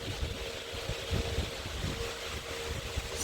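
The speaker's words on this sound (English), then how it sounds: "if you hear the noise in the background, that's my fan. I have a metal fan, so it sounds like a propeller from a plane" A metal electric fan runs steadily in the background of a quiet room, giving a constant whooshing, propeller-like hum with a faint low rumble and no speech.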